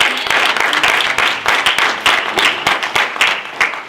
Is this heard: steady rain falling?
no